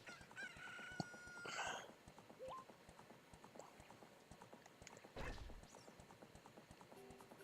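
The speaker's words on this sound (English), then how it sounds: "Because the dawn noise is still the chicken." A rooster crows at dawn in Ocarina of Time, a clear electronic crow set against a soft game ambience with faint clip-clop hoof sounds and chirps around it.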